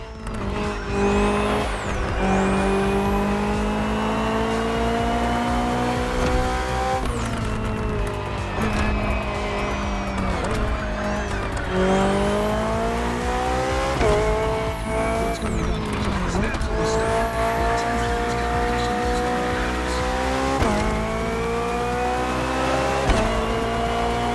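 A BMW hybrid V8 race car in The Crew Motorfest screams through repeated climbing revs, each run cut by a gear change, as it races past with brief tire squeal.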